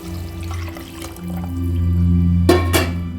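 Water splashes and pours into a pot in short bursts, growing fuller toward the end, with a steady low hum behind it.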